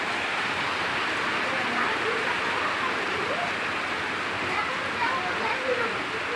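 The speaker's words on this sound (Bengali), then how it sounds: "মিডিয়াম বৃষ্টি পড়তেছে।" Medium rain falls as a dense, even hiss that holds steady throughout, with no clear voices over it.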